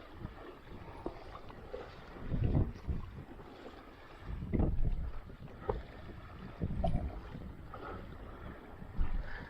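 Strong wind buffets the microphone in gusty, rumbling surges during a tropical storm on West Lake in Hollywood, Florida, heard while paddle boarding, with soft water noise beneath and no talking.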